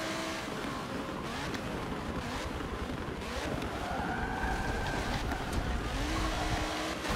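A GT racing car engine in Forza Motorsport 7 roars steadily at close range, revs rising and falling through gear changes with a continuous growl and occasional tire noise from nearby cars.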